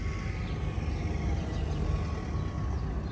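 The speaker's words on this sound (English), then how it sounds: "Really nice sounding exhaust." A 1965 Chevrolet Impala wagon with a 409 V8 idles with a lopey exhaust, a steady, fairly close low rumble that holds even throughout with no voices.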